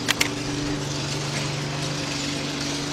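Ratchet clicks twice quickly while loosening a bolt on a Honda engine during head gasket and timing belt work, followed by a steady mechanical hum in the background.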